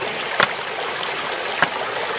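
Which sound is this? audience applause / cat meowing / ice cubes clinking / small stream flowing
small stream flowing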